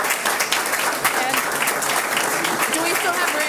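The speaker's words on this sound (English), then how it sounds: "So let's give Memorial a round of applause" An audience at a school district board meeting applauds the Memorial group, dense sustained clapping from many hands filling the room, steady and fairly loud throughout.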